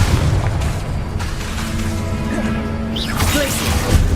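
In the Hogwarts Legacy video game, a Confringo spell explosion booms with a deep, rumbling blast close up, followed by crackling debris.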